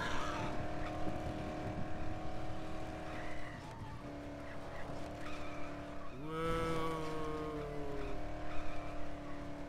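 A vehicle drives in the zombie game Dead Island, its engine droning steadily with a brief tire skid or squeal partway through, heard alone without talk.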